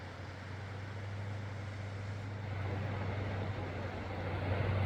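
Steady road traffic from cars passing near Camp Creek by the Klamath River, a continuous low rumble and broad hiss that swells slightly toward the end, with no clear separate passes.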